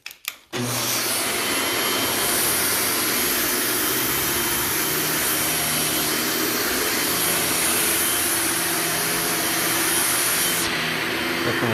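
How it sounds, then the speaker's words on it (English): A vacuum cleaner starts up and runs loud and steady on carpet in a move-in-ready home, with a constant roaring whine and no talking. "Next step is going to be me vacuuming pretty soon here."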